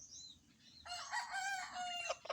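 Stag roosters crowing, a clear cock-a-doodle-doo that swells in from about a second in and holds loud to the end, with faint clucks beforehand and no talking.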